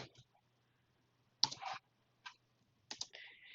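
Computer keyboard typing comes in a few short, sparse bursts of close, quiet key clicks separated by silence while entering Python code.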